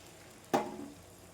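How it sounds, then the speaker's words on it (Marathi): One small glass of water splashes into a hot pan while making kanda poha, a single sharp sizzling hiss that fades quickly, near and faint. "तर छोट्या ग्लासने मी 1 ग्लास पाणी टाकत आहे."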